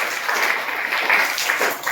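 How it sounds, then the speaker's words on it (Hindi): A crowd of students and guests at a school event in India applauds steadily, dense clapping without pause for about two seconds. "इनकी जोरदार तालियों से स्वागत है।"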